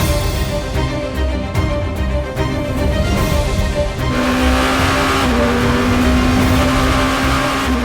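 Endurance race cars, including a Porsche, battle at the 1000 Miles of Sebring. Engines roar and rev loudly and continuously with shifting pitch as cars pass and accelerate, and there is no commentary.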